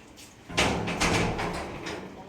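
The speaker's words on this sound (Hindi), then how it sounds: "इसलिए दरवाजा बंद करते हैं।" A door being shut at night in a home: a short scraping, shuffling thud of moderate loudness, near, with no voices over it.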